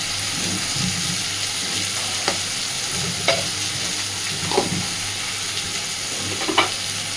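Water spinach with turmeric stirred and fried in a pan, a constant sizzle broken by four or five sharp scraping strokes of the spatula spaced about a second apart.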